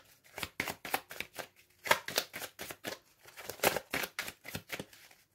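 Tarot cards are cut and shuffled close up in a quick run of crisp riffling bursts and taps, with short pauses between them and no voices.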